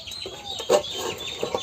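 A chicken in a village setting gives a few short, close clucks within under two seconds, with one louder squawk near the middle.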